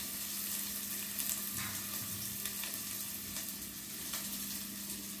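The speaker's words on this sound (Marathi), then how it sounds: "कांदा टाकून घेते." Chopped onion sizzles in hot oil with cumin for a dry papad chutney, a continuous soft frying crackle with a low steady hum underneath and no talking.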